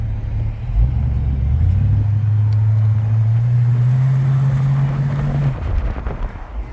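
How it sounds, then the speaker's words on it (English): A 1973 Ford Mustang convertible's exhaust rumbles nearby at a moderate, even level, rising slightly in pitch as the engine is held up for a few seconds before settling back down, with some wind noise. "This car does not have a very loud exhaust, but it is like the perfect amount of rumble."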